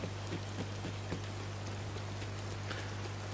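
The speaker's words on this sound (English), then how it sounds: "Oh, and it started raining." Steady rain patters in the Disney Dreamlight Valley video game, a soft even wash of drops with light scattered ticks over a constant low hum, no voices.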